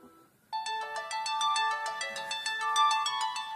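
A bright electronic ringtone melody plays continuously after a short quiet start, loud and close, with repeating chiming notes and no talking.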